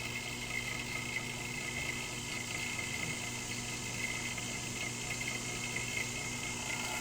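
An AC vacuum pump hooked to a Chevy Tahoe's air-conditioning system runs with a faint, constant hum and no change over the whole stretch, with no voices.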